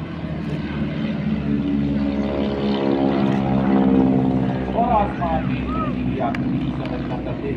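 An aircraft drones overhead at an Indian Air Force air show at the Sangam, a steady loud propeller engine hum swelling and fading over several seconds, with someone talking over it.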